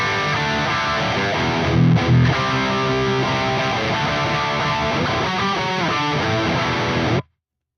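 Distorted electric guitar plays a sustained, layered passage with a roomy wash of reverb trailing the notes, steady and fairly loud before cutting off abruptly.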